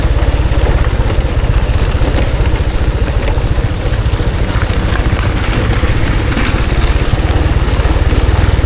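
A motorcycle engine drones steadily and loudly while the bike rides slowly along a steep mountain road in Laos's Bolikhamxay and Khammouane provinces, a continuous low rumble with no talk over it.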